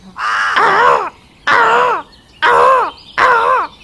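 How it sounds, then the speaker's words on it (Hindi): A crow perched in a tree caws loudly and repeatedly, four harsh, drawn-out calls with short pauses between them, close and clear with no talking. "तभी थियो कौवा पेड़ पर बैठ के लगातार अपनी साथी को बुला रहा था"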